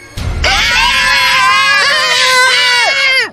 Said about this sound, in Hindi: उस औरत को देखते ही उन तीनों की चीख